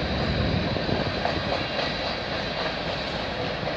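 A CN/CP train, number 397, rolls past in Milton, Ontario, producing a steady, loud, broadband rumble and roar that holds without a break from start to finish, with no voices.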